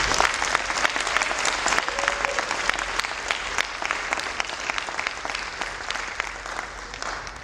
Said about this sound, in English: you deserve a round of applause for a job very well done